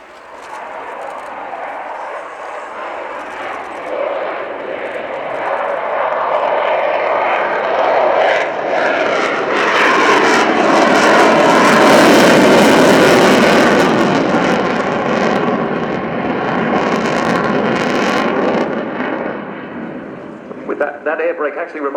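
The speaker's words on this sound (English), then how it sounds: "This is a modernised one, a Su-27P1M, at very slow speed indeed, with the air brake deployed." A modernised Sukhoi Su-27P1M fighter jet passes at very slow speed with its air brake deployed, its engine roar building to a loud peak midway and then fading, with broadband jet noise filling the whole span.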